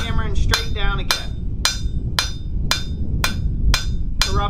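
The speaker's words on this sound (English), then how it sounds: "hammering straight down again" Hammer blows forge a steel drawer pull on an anvil, about eight sharp ringing strikes at a steady rhythm, close and loud over a low rumbling background, with a brief voice at the start.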